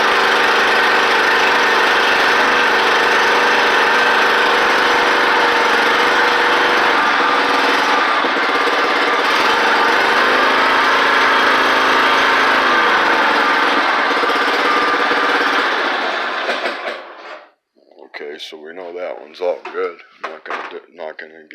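Cub Cadet XT2 riding lawn mower from 2018 runs loud and steady with its blades disengaged, apparently inside a garage, then cuts off near the end, leaving faint clattering and rustling behind.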